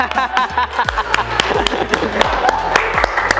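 An audience claps at an Indonesian best-practice event after quiz winners are announced, a loud, continuous patter of many hands with sharp individual claps standing out.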